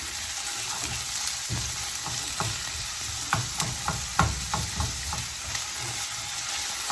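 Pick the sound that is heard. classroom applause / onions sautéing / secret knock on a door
onions sautéing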